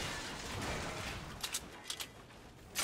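A handful of short, distant gunshot cracks from the battle royale video game Fortnite pop faintly over a loud, broad wash of background noise, with a final sharper burst near the end.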